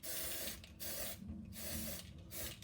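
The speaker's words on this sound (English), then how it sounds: "I am going to be adding the glitter spray" Glitter spray from an aerosol can is sprayed onto a hair bow in three close, loud hissing bursts separated by short pauses.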